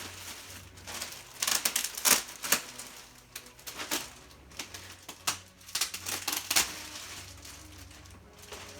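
Packaging of a KRW PMD K2000 set being opened close up, with irregular bursts of crinkling plastic and paper tearing and rustling over several seconds in a quiet room.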